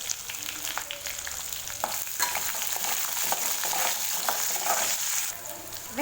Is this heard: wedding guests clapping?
no